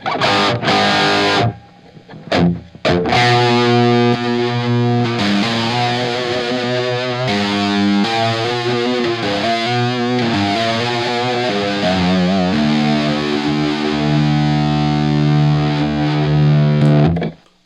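A heavily distorted electric guitar played through a flanger pedal on a pedalboard rings out loud and close, chords and held notes sweeping with a shifting, whooshing tone, ending on a long sustained chord.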